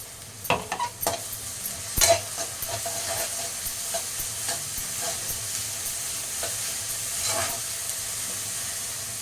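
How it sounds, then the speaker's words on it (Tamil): Onions sauté in a pan with ginger, garlic and fennel paste for a prawn curry, a close, steady sizzle and hiss with a cluster of spatula scrapes early on. "வெங்காயம் நல்லா வதங்கட்டும்"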